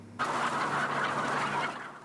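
Chickens on a family chicken farm holding over 19,000 birds, a dense flock murmur of clucking and squawking that starts abruptly and continues steadily, close and fairly loud.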